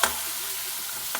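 Tomatoes drop into a hot oil tempering in a pan for a Gujarati sev tameta curry, giving a steady soft sizzle with a sharp clack at the start and another light knock near the end.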